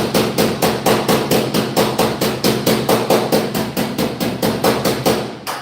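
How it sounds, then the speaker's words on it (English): A hammer taps steadily on a metal car body panel, about twenty even, sharp strikes in a quick rhythm, close and fairly loud with no talking over it. "we're going to hammer this out to my new panel here, okay? So I'm going to tap it a little bit more"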